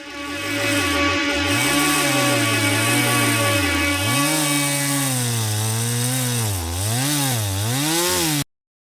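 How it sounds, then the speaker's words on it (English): A log saw sound effect played on a radio show gives a loud, continuous buzzing rasp with a wavering, rising and falling pitch for several seconds before stopping abruptly. "Let's get you the Horn of Victory and some log saws."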